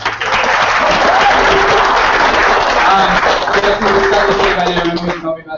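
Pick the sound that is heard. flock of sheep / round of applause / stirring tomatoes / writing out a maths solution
round of applause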